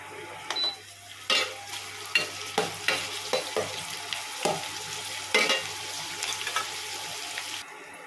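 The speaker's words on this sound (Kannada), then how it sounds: "ಸೊ ಇದನ್ನು ಎಣ್ಣೆಗೆ ಚೆನ್ನಾಗಿ ಫ್ರೈ ಮಾಡ್ಕೋಬೇಕು. ಸ್ವಲ್ಪ ಸಾಫ್ಟ್ ಆಗುವವರೆಗೂ ಫ್ರೈ ಮಾಡ್ಕೊಳ್ಳೋಣ ಗೈಸ್." Fenugreek leaves fry in oil with a constant sizzle, and a spatula stirs and scrapes the pan in a steady, uneven rhythm. The frying stays up close with no talk over it.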